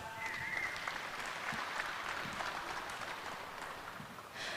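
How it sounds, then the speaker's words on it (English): Spectators in a livestock show ring give a quiet, sustained round of applause for a junior showmanship class. The clapping is fairly distant and faint. "I would just like to get a round of applause for how great a job these showmen are doing in this champion class."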